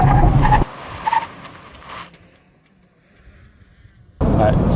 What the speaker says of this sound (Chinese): 下面我们会做一个100公里到0的刹车啊